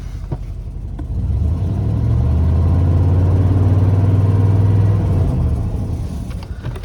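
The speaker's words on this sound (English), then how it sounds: "And then if I rev it up," A 1990s Chevy engine revs up from idle, rising to a sustained throaty drone for a few seconds before easing back down, close and loud.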